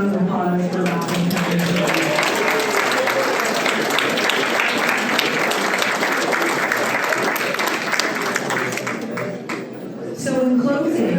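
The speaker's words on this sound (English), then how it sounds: "One more round of applause for Robin." Sustained applause from an audience at a humanitarian award ceremony, dense clapping throughout that dips briefly near the end before swelling again.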